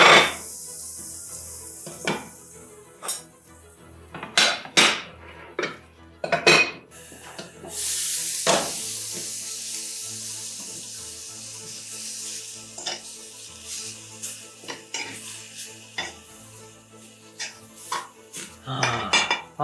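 Vegetables for ramen cook in a pan with scattered metallic clanks of utensils against cookware, a sharp knock or two, and a soft sizzle running underneath throughout.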